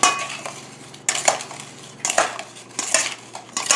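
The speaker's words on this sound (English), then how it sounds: "Mix well in this bowl. Make sure they're coated, the potato pieces are coated." Potato pieces being tossed with olive oil, salt and dry thyme in a bowl, producing close, repeated scraping and clattering bursts of a utensil against the dish.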